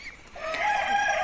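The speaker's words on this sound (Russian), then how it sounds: "Тоже компактненькая курочка араукана." An Araucana hen clucks and croons in a drawn-out, rising call, close and fairly clear against faint background noise.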